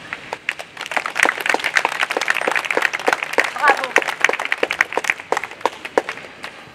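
Crowd at a Lyon protest against prison crimes and violence claps, a dense run of handclaps lasting several seconds, moderately loud and outdoors, with a speaker's voice briefly over it.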